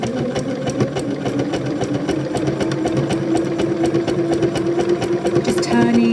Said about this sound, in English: Make sure that you sew over the top of these bunting flags.